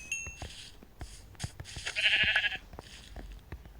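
Short, tinny Minecraft sheep bleats recur over a bed of clicks and background sound effects, with one louder wavering bleat in the middle.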